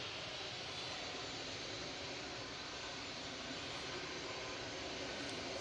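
Ryanair airliner departing Manchester Airport, a steady broadband roar that holds at a constant, fairly distant level throughout with no voices.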